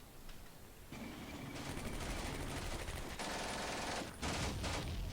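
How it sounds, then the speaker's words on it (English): Gunfire in the video game Combat Mission Beyond Overlord, a Normandy June 1944 battle, comes as bursts of distant, crackling rifle and machine-gun fire building into heavier, sustained volleys. "Let's fire at those guys instead."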